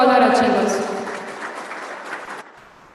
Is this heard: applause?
yes